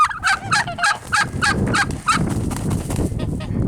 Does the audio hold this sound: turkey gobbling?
yes